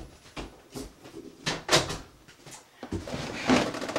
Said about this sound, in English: And just a sec while I shut my door.